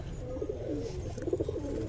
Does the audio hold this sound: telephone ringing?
no